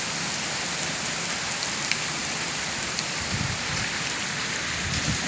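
Steady rain falls outside a building, a continuous dense hiss of drops on surfaces with a few louder drips standing out, heard up close and alone without talking.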